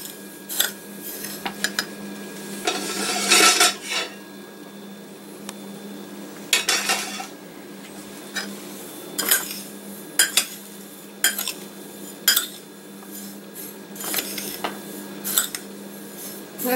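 Cornmeal and spices mixed together in a wide bowl for frying green tomatoes, with scattered clinks and scrapes of a utensil against the bowl, including a longer stirring burst, amid quiet pauses.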